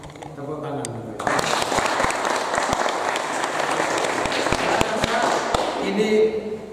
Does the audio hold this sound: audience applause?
yes